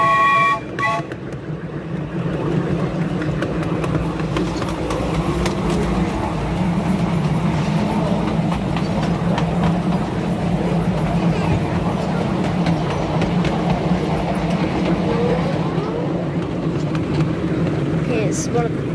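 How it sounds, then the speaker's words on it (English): A coal-fired miniature steam locomotive runs along a small track through a tunnel, its steady rumbling and rattling wheels continuous and close, with a brief high whistle toot near the start and a voice talking over it. "Get ready for the whistle."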